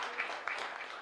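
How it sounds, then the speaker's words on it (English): Applause from the audience at a university graduation ceremony, a steady wash of many hands clapping for about a second, fairly faint and even without talk. "Let's clap for them."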